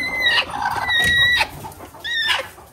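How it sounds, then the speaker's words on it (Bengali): A flock of farm chickens, including several young birds kept in a crate, clucks and calls steadily and close by in overlapping bursts, with no talking. "দেখছেন অবস্থা কতগুলো মুরগি।"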